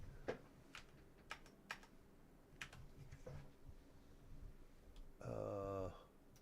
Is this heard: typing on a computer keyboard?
yes